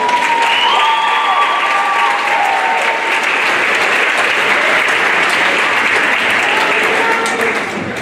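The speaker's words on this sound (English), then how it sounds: "They really earned that applause." Audience at a high school spring choral concert applauding the crew, a steady, dense wash of clapping from a large crowd filling the hall for several seconds, with faint voices and cheers mixed in.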